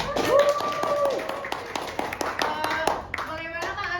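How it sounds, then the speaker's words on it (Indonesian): An audience at a public Islamic lecture clapping, a scattered run of hand claps and taps heard under a speaking voice, fairly close and moderately loud. "Kita berikan tepuk tangan terlebih dahulu."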